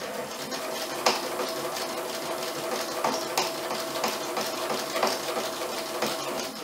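Sewing machine stitching pajama pant fabric, a steady close mechanical whirr with faint periodic clicks, running continuously without talk.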